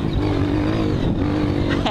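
A Yamaha R1 and a Honda CRF ride a rough mountain trail at Ibituruna, engines droning and rising in pitch as they accelerate close by, with a voice speaking over the motor noise.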